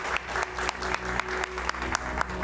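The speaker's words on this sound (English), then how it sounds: "A huge round of applause, please." At an awards event, an audience claps for a minister with steady, fairly loud applause over a rhythmic musical beat with regular percussive hits.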